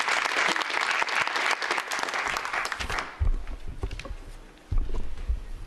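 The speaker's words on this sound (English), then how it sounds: "And a bit of applause, please." Applause fills a conference hall during a transport development-financing session, dense clapping that runs for about three seconds and then drops away to scattered low thumps and room noise, with no one talking.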